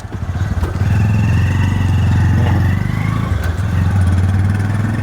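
A tricycle, a motorcycle with a sidecar, putters loudly and steadily while riding in the Bicol region of the Philippines, its engine a continuous close chugging drone with slight rises in pitch.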